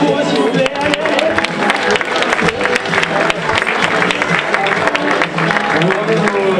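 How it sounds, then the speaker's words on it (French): An award ceremony audience applauds a team on stage, a dense, steady clatter of many hands with crowd noise and voices mixed in throughout. "Donnez un applaudissement pour eux s'il vous plaît."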